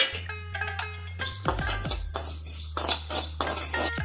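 Coriander seeds and whole spices are tipped into a heated metal pan for chicken pepper gravy, giving clinking and scraping rattles over a steady low hum.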